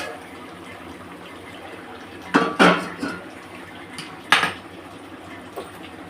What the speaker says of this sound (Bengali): আমি এবার ঢাকাটা খুলে দিচ্ছি